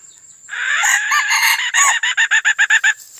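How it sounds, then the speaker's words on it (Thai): A Thai fighting rooster crows loud and close, a long strained call that breaks into a rapid run of about eight choppy pulses at the end, with no talking. "น้องไก่"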